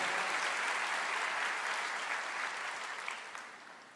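A congregation applauds during a church service, a dense, steady wash of clapping that holds for several seconds and slowly fades toward the end.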